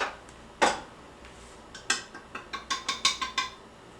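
A stand mixer's whisk is pulled off and a dough hook fitted, giving a sharp metallic clack followed by a quick run of light, ratcheting clicks and taps, close and fairly quiet.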